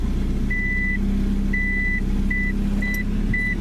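Seatbelt warning chime in a JDM Honda Accord: several evenly pitched beeps repeat at a steady pace, sounding clearly over the low rumble of the idling engine.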